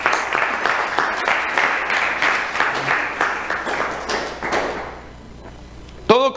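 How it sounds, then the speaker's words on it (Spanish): A church congregation applauds at a sermon with clustered claps and thumps, then the applause tapers off. A voice rises briefly at the very end. "Denle un aplauso al Señor"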